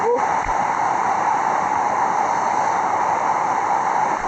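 A monsoon waterfall on a Maharashtra trekking route roars as a steady, loud, unbroken rush of falling water throughout, close by.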